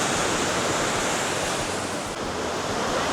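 A waterfall in the Aare Gorge, Switzerland, gives a loud, continuous rushing roar of falling water, close and steady, with no talking.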